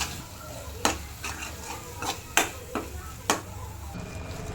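A utensil stirs masala for shev bhaji in a pan with a few distinct scraping knocks. Under them runs a steady background hiss of cooking.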